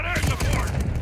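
Gunfire from the Modern Warfare II campaign, a dense burst of shots layered with game music and a voice speaking over the top during a short, steady-level moment.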